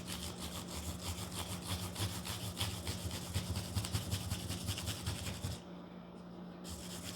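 Steady rhythmic rubbing of fine abrasive on metal guitar frets, quick back-and-forth polishing strokes close up, stopping briefly near the end.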